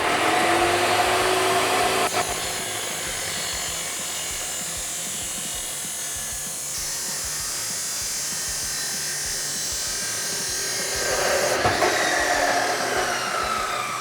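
A power tool whines steadily as it cuts through an exhaust inlet pipe for a 2014–2018 Chevrolet Silverado SLP single side exit system. The buzzing dips in pitch while the cut bites, then rises again near the end.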